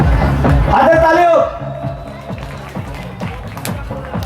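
An audience at a quiz event claps along in a loose, uneven rhythm, taps scattered and moderately close, with speech and crowd babble underneath.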